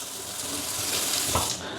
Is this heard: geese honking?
no